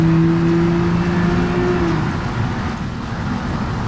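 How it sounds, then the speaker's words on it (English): Heavy rain in the BeamNG driving video game, a steady loud hiss and patter mixed with a car engine's droning hum that fades partway through. "The rain is expected to get lighter."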